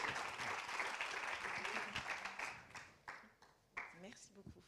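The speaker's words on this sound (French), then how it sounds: "On peut les applaudir." Loud applause from an awards ceremony crowd, dense clapping that thins out and fades into scattered claps, with a voice speaking briefly in French over the tail end.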